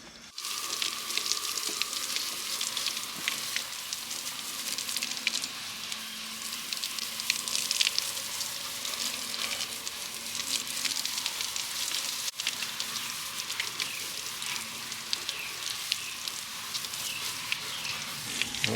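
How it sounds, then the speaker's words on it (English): Freshly harvested potatoes rinsed under running water, a steady close hiss of spray and splashing continuing without pause. "So we're going to get these rinsed off."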